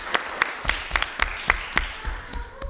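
Sparse handclaps at a municipal council meeting, roughly a dozen distinct claps at an uneven pace from a small group, fairly quiet in a room.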